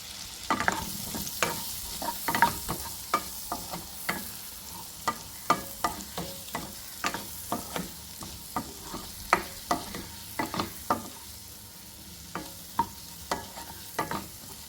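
Paneer coated in chili powder is sautéed in a pan for butter paneer curry, a soft low sizzle punctuated by regular, distinct spatula taps and scrapes across the whole stretch.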